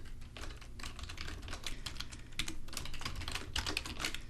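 Rapid, uneven keystrokes on a computer keyboard clatter steadily throughout, close and moderately loud, with no voices over them.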